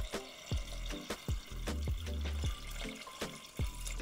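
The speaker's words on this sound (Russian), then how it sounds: "Заливаем это все 900 мл холодной воды." 900 ml of cold water pours and splashes into a multicooker pot of buckwheat and meat, gurgling unevenly with sloshing bursts and drips close by.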